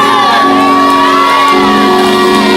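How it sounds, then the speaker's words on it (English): A church congregation screams loudly during a worship service, a sustained, close, roaring wall of voices that carries on without a break. "Come on, open your mouth and scream in this place."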